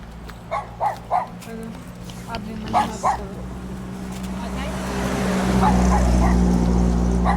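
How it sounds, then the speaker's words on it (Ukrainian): A dog barks in Rakhiv, several loud barks in two quick bursts over steady background noise, then a rising rumble takes over. "Тут пес так гавкає, капець."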